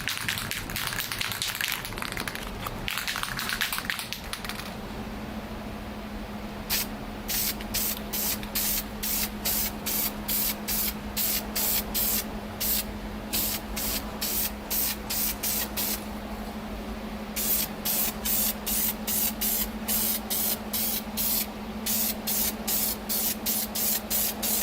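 Spray primer applied in light coats to a Datsun 280Z engine bay: a rhythmic series of short, close hissing bursts, following a stretch of rustling handling noise, over a steady low hum.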